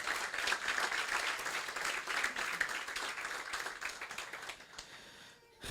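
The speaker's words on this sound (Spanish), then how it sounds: "Un aplauso para el Señor." Congregation applause inside a church during a Spanish-language sermon, a dense, steady wash of many hands clapping at moderate distance that fades toward the end.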